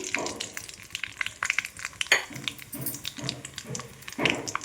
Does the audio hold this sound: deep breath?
no